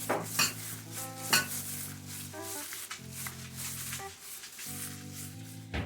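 Dry seasonings for chicken liver, onion powder and garlic powder among them, get stirred together in a bowl, with a few clinks and scrapes of utensil against the dish and no voices.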